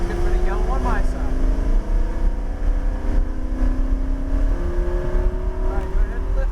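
A car's engine drones continuously on a driving track as the throttle is rolled on through a turn, its pitch sliding up and down with steady, loud mechanical roar throughout.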